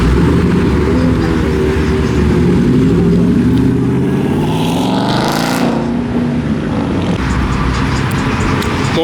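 Loud, close engine rumble from a modified Dodge Challenger and a wide body Charger rolling up at a car meet, a steady heavy drone with a rising pass sweeping through the middle.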